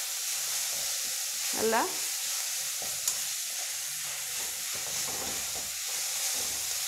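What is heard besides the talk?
mudakathan herbs sautéing in oil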